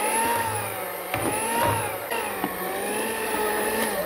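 A mixer runs close and steady, kneading potato donut dough with yeast, a continuous whirring motor drone with slight rhythmic wobbles and a few soft knocks.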